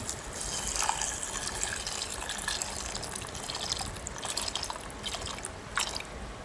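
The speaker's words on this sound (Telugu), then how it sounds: "ఇందులో అయితే నీళ్ళు పోసుకోవాలి" Water is poured into a bowl to soak silver prawns for a curry, a faint steady trickle and splash with no talk over it.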